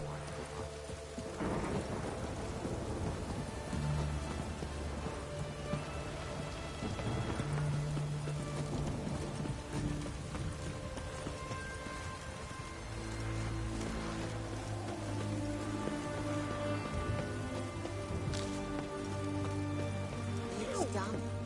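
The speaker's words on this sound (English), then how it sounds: "It's raining, of course it's going to be damp." Steady rain falls in The Witcher 3, a continuous wash with occasional thunder rumbles, layered under game music and character dialogue throughout.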